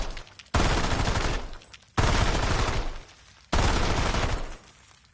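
Three loud bursts of rapid automatic gunfire from a weapon in a PS5 Black Ops 7 multiplayer match, each burst about a second long and separated by short pauses.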